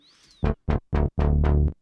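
Five punchy bass notes from a TAL Bassline 101 synthesizer in a short rhythmic phrase, deep and buzzy with quick gaps between them, loud and up front.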